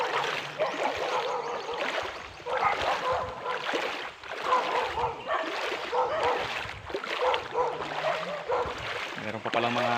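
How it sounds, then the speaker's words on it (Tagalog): Dogs bark and yip beside a river near a small dam, several sharp barks repeating in an irregular rhythm at moderate distance, with a whimper and some voices mixed in. "May mga aso."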